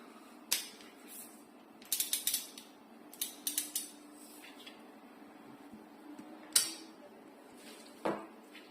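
A professional torque wrench rated 20 to 110 newton metres gives off sharp ratchet-pawl clicking in several short bursts, close and fairly quiet, separated by gaps of near silence.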